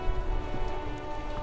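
Steady slushy rain pours without a break in the video game Disco Elysium, a dense, even hiss with no voices.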